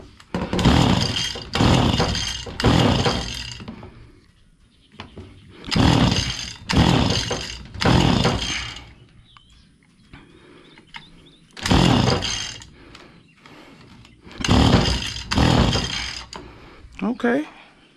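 A Stihl FS85 hedge trimmer engine with a leak is pulled and fires in repeated loud bursts, a rough close two-stroke rattle that sputters and stops between tries.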